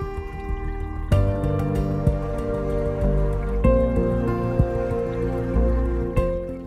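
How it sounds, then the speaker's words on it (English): Water trickles and drips while a 1-gallon pico reef aquarium is topped up near its filter overflow, with steady splashing and a few sharper drip accents, close and fairly loud. "You may have to fill up or remove some water till the level in the filter overflow is above the media tray"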